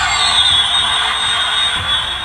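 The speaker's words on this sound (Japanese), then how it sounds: "これ X-Wing が飛んでる音だね" A Star Wars Hot Wheels flight controller toy plays its electronic X-Wing flying effect, a steady, loud hissing whoosh with a bright whine that holds evenly for about two seconds, with no one talking over it.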